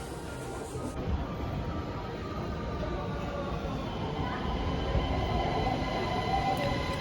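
A modern train in Vienna rumbles steadily nearby with a rising rolling roar and faint wheel squeal, a low continuous drone throughout, with a voice faintly audible.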